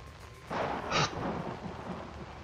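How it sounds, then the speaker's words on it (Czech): Thunder rolls with lightning in the horror video game Outlast, a broad rumbling burst rising suddenly after half a second, with a sharp crack-like peak around one second, then a fading noisy rumble. "Zasraný blesky a hromy."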